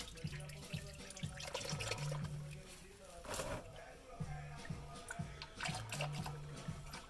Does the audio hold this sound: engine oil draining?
yes